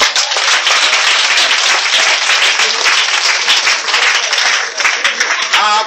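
A church congregation bursts into loud, sustained applause acclaiming Jesus, a dense roar of clapping that carries on for several seconds with some voices mixed in.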